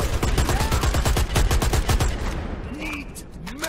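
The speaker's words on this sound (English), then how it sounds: "The machine gun." Rapid bursts of automatic machine-gun fire in the online shooter Dirty Bomb, loud and close, rattling continuously for about two seconds before tapering into quieter game sounds.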